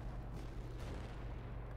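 Gunfire aimed at planes in the soldier battle video game Ravenfield, a steady rumble of distant booming shots and bursts blending into a continuous low roar, fairly faint, with no talk.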